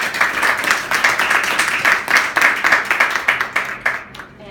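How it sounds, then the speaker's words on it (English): Audience clapping at a school civics competition, fairly loud and close with distinct individual claps in an uneven rhythm, thinning out toward the end. "They also deserve a round of applause."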